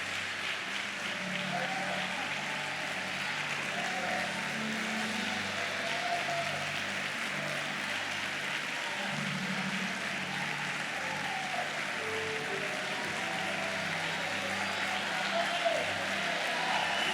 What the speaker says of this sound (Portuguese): Se você recebeu, dá uma salva de palmas ao Senhor,